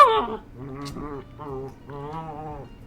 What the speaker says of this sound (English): That's the dog.